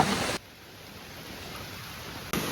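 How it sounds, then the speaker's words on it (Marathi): Steady soft rain hisses in the background, louder at the start and end, with no talking. "जसं आम्ही निघालो घरना तिथून पाऊस लागला"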